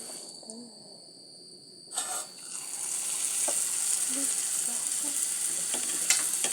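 Quiet room tone, then a clatter as food hits the pan and a loud sizzling hiss starts and keeps going, with faint clinks.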